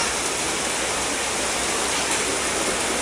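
Steady, loud rain pours down without a break, a dense continuous hiss close by.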